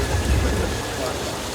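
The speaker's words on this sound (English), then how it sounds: "What is more relaxing than the sound of a fine autumn rain?" Artificial rain from sprinklers on a Universal theme park ride falls in a dense, steady hiss of water pattering on surfaces, loud and continuous throughout.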